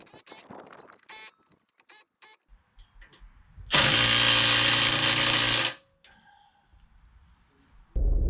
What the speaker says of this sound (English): So now it's just a matter of tightening this clamp.